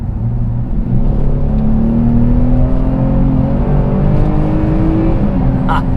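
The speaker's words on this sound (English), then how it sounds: "first little stab of the gas in the Blazer RS" Loud, close engine note of a 2021 Chevy Blazer RS as the throttle is pressed, its revs climbing in rising tones over about six seconds with steady road noise underneath.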